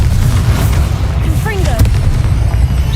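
A Bombarda spell blasting at spiders in Hogwarts Legacy, with booming low rumble and a sharp burst mid-clip over continuous game noise and music.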